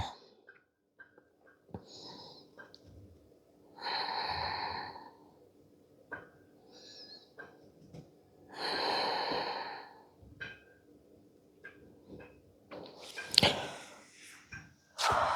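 Slow, deliberate breathing during tripod headstand yoga practice, with a few long, audible inhales and exhales separated by quiet pauses, close to the microphone and faint overall, plus small soft movement noises.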